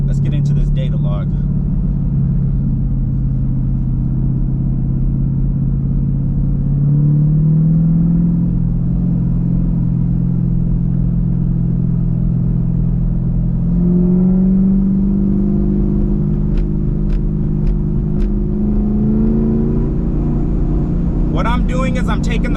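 A ProCharger-supercharged car engine drones loudly and steadily, climbing to one held RPM and then another in long sustained steps, with a faint whine over the deep rumble.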